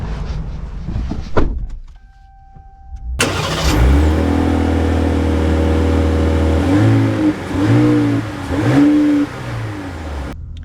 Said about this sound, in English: Let's see how it drives.